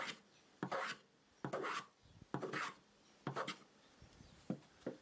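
Rhythmic rasping strokes of a hand tool scrape across a piece of firewood, smoothing away saw marks, about seven even passes with short pauses between, close and crisp.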